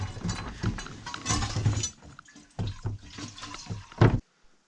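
Pressurized alcohol hissing and spurting from a cut red hose on a boat being stripped of structural parts, a wet, fizzing rush that surges and fades in uneven bursts before stopping, close and moderately loud.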